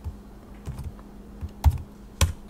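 Typing a command on a computer keyboard in an Ubuntu Linux terminal, a handful of sparse key presses with two sharper strokes near the end, close and moderately loud, without speech.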